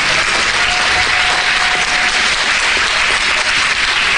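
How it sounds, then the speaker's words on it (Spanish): Sustained, loud applause from a church congregation fills the space, many hands clapping in an even, unbroken roar. "Fuerte los aplausos."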